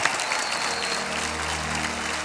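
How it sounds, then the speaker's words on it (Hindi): Loud, steady applause from an audience at a live singing performance fills the whole stretch, with a faint low musical hum underneath. "एक बार जोरदार तालियां हो जाए"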